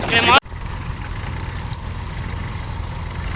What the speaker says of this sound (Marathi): ट्रॅक्टर चालू झालेलं आहे